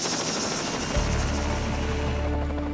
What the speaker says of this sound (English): The whir of helicopters can be heard all day long